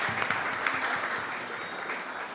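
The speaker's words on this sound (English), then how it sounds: "I think Mr. Bartholomew deserves a better round of applause than that." An audience at a disability council gathering gives sustained applause, a steady wash of clapping at moderate distance with a faint voice beneath it.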